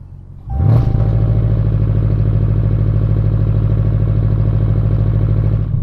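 A Dodge Challenger Hellcat Redeye's supercharged engine jumps from idle to a loud, sustained full-throttle roar held steady for several seconds during a launch-control start, with a whining tone over the deep rumble.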